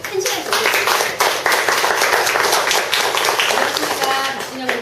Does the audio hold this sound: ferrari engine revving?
no